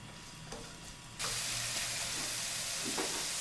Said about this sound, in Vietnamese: Cho hành tỏi vào xào.